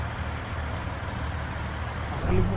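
A vehicle engine, likely a truck, warms up in a driving video game set on the Espinazo del Diablo mountain road. It gives a steady low rumble that swells louder near the end, with no talking.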